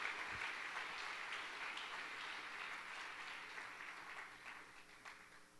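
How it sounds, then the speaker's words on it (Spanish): Congregation applauding during a church service, a faint, steady wash of many hands clapping at a distance for several seconds, with no distinct voices. "¿Cuántos le dan un fuerte aplauso a nuestro Dios?"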